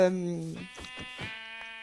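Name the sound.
sheep bleating in a video game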